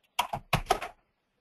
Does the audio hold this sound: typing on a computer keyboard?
yes